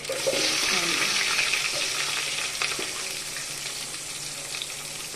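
Onions frying in hot oil with cumin and tempering seeds for Andhra drumstick sambar give a dense, steady sizzle close by, with faint scraping and a few soft clicks through it.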